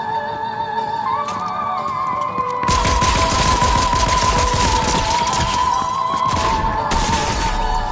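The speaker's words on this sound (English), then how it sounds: "I'm just going to use my DMR" Rapid bursts of DMR rifle fire in Fortnite crackle loudly and close, a dense volley of shots over a steady in-game tone, with no talk.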